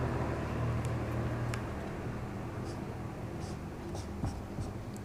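An equation for a Hermite polynomial recurrence relation is written by hand, giving a steady scratchy writing noise with small scraping strokes over a constant background hiss.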